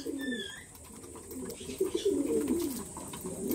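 Pigeons coo softly while feeding on grain, a low steady murmur of overlapping coos from several birds close by, with a few faint higher chirps.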